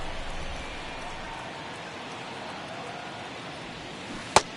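Steady rain falls across a baseball field during a ballgame in MLB 23, a dense, even hiss with no breaks, and a single sharp click cuts through near the end.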